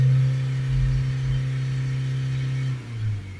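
A Ford Ranger 2.0 BiTurbo diesel held at steady revs around 3200 RPM, a loud, even drone that dips briefly near the end before climbing again; no voices over it.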